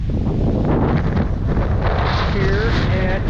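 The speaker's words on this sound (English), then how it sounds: "Right now it's red flag and it's windy" Strong wind buffets the microphone at a windy beach by the dunes of St. Joseph Peninsula State Park on a red-flag day, a loud, steady roar with faint tonal whistles near the end.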